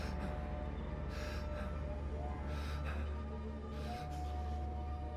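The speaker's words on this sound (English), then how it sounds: "Can't hear footsteps over the sounds of my own breathing." Heavy, faint breathing from a character hiding inside a barrel in the Outlast 2 video game, with slow breaths rising over a steady low hum.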